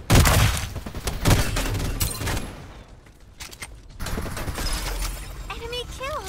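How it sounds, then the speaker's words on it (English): Weapon reload in the battle royale shooter Farlight 84: clicking, ratcheting mechanical handling mixed with nearby gunfire bursts, a brief quieter gap, then more clatter and chirpy game effects. "Reloading."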